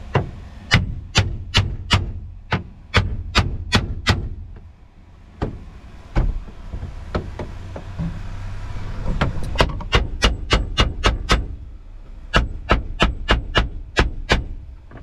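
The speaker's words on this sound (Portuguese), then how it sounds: "Agora pega o martelo aí, porque vai precisar pregar isso aqui de novo." Hammer blows driving nails back into a board during a roadside repair, sharp strikes in quick bursts of several hits with short pauses, close and loud over a low background rumble.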